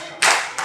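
Two sharp hand claps in a classroom rhythm exercise, close and loud, a strong first clap followed by a softer second one, with no talk over them.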